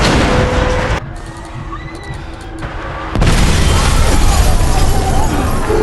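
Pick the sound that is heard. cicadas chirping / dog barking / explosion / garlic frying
explosion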